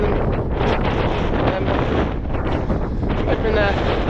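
Strong gusting wind above 25 mph blasts across an exposed hilltop, a loud continuous roar buffeting the microphone throughout with slight surges, and a voice can be made out faintly beneath it.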